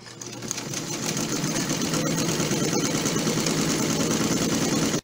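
A sewing machine runs continuously, stitching a straight seam through fabric with a steady, fast mechanical whir and chatter, close and alone for about five seconds.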